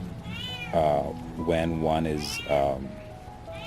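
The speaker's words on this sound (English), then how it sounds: "that's the cat." A cat meows several times close by, its drawn-out cries mixing with a person talking.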